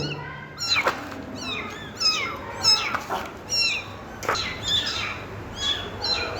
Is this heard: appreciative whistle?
no